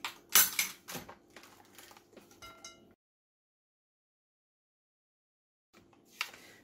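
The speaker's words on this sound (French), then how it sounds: "Et je vais fouetter le mélange." Cream cheese with vanilla is whisked in a bowl in quick, sharp clicking strokes for a few seconds, then a stretch of silence before the whisking briefly resumes.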